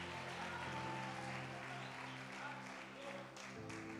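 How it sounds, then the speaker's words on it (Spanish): A Spanish-speaking church congregation claps softly during a sermon, faint scattered applause under a steady sustained background tone. "Aplaude a Dios."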